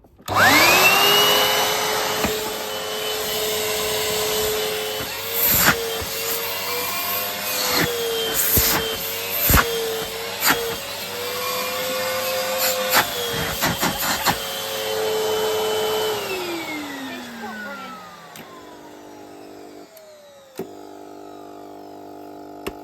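A Numatic cleaning machine runs with its solution pump going, a steady motor drone with a rising whine and clicks over about sixteen seconds before winding down, followed by faint short bursts of the pump.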